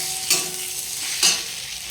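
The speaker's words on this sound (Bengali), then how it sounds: "মশলাটা কষে নেব।" Spice paste for bitter gourd shukto frying and being stirred in a pan with ghee and fried bitter gourd, a steady close sizzle broken by two sharp scraping strokes.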